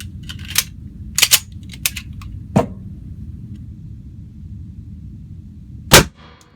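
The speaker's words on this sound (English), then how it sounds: "That one came out through the bottom of the gun. Stovepipe malfunction." Outdoor gunfire during a stovepipe malfunction: several sharp, close reports in an irregular string, a few pairs in quick succession, then a pause and one last loud shot over a low rumbling background.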